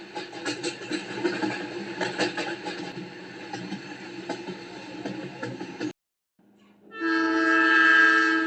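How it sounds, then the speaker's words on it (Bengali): A train pulling into a station, heard as rumbling, clattering wheels over the tracks, then a brief silence before a loud, sustained horn blast rings out. "কিছুক্ষণের ভিতরে ট্রেন থামবে।"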